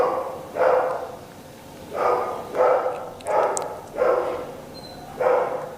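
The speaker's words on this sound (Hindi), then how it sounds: "ये कुत्ते के भौंकने की आवाज सुन रहे हैं आप?" A dog barks six times in a slow, irregular series, moderately close, with quiet pauses between each bark, in a film scene.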